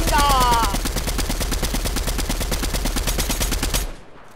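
Rapid automatic gunfire from a favourite gun in a video game, a loud, steady stream of shots for nearly four seconds before cutting off abruptly.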